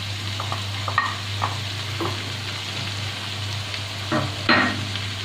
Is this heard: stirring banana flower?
yes